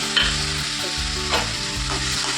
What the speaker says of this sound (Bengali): এখানে আমি জল দিয়ে দেবো, একটু জল দিয়ে একটু কষাতে দেবো।